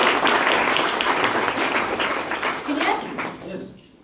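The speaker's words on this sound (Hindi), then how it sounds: "ताली बजा दो।" At a company success meeting, an audience claps loudly and densely for several seconds, and the applause thins and fades out at the end.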